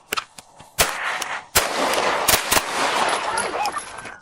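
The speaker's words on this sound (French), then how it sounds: "Des coups de feu ont été tirés." Gunfire in a Chicago police shootout with a car theft suspect: a few sharp, close shots ring out early, then a rapid cluster of loud cracks over a noisy, chaotic background.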